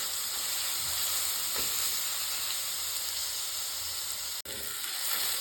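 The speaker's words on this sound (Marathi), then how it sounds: "गॅस आपल्याला बारीक ठेवायचा आहे आणि कांदा चांगला परतवून घ्यायचा आहे आपल्याला." Onion sautés in a pan over low gas for mushroom masala, a steady close sizzle and hiss with one sharp click near the end.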